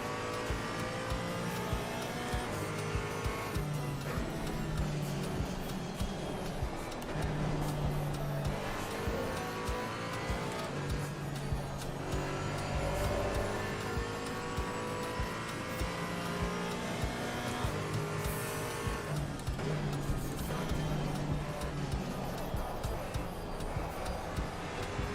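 A race car engine revs and shifts around Spa-Francorchamps in a racing video game, with tires squealing through corners; the continuous loud drone rises and falls with gear changes throughout.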